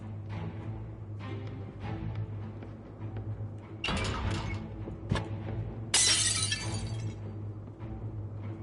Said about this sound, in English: Take a mighty swing with the hammer. With a crash, the mirror shatters and sprays the room with glass.